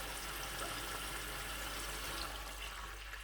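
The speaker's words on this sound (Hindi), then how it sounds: "थोड़ा सा पानी मैं इसमें और ऐड कर दूँगा।" Water pours into a cooking pot of mutton rice, a steady broadband splashing and trickling that runs continuously at moderate level with no talk over it.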